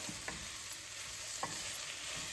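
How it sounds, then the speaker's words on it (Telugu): Cabbage and red bell pepper frying in a pan, a faint, even hiss with a few soft spatula taps spaced across the moment, heard up close with no one speaking. "ముందు నేను క్యాబేజీను బెల్ పెప్పర్ వేస్తున్నాను"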